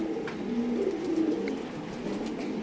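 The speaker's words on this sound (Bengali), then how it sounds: "বিআরপিএল 23 সুন্দর একটা মাদি কবুতর মাশাআল্লাহ" A female racing pigeon coos nearby in low, rolling, repeated calls, with faint rustling and a few small clicks in the background.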